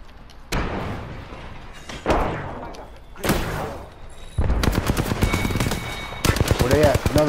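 Gunfire in a shooter video game: several sharp, loud single shots spaced apart, then dense rapid automatic bursts near the end, with players talking over the action.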